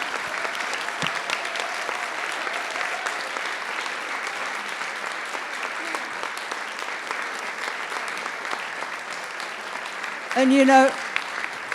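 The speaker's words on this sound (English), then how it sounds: "I would like to suggest that all of us give them a round of applause and come up" Sustained applause from a conference audience after a health professional education panel, a steady, dense patter of many hands that runs on at an even level, with a brief spoken word near the end.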